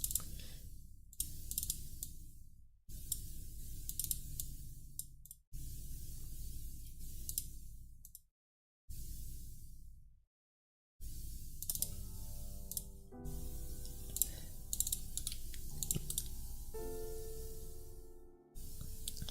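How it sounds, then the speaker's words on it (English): Typing on a computer keyboard while working in Blender, heard as bursts of fast clicking keystrokes separated by brief pauses, with soft piano music entering in the second half. "I'm just gonna let you guys listen to my keyboard as I do this."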